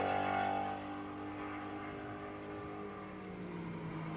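A GT4 sports car engine in qualifying at Watkins Glen drones steadily with a loud sustained tone that eases slightly after the first half second, holding a constant hum with no talk over it.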